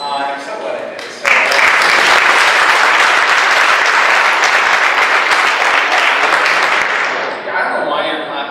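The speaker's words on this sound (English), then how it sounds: "I don't know why you're clapping for me." An audience at a celebration at the University of Moratuwa breaks into sustained applause. It starts abruptly after a quiet moment, stays loud and dense for about six seconds, then tapers off.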